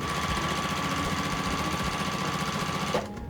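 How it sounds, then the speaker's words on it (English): A sewing machine runs steadily, stitching long thin fabric strips together for a summer quilt, with a fast even whir close by that stops abruptly near the end. "we're going to sew down the entire length"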